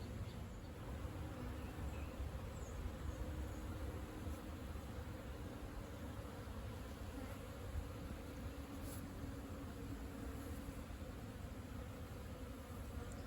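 Bees buzz around backyard beehives that have come through winter, a dense steady drone filling the air without pause, close and continuous with no talk.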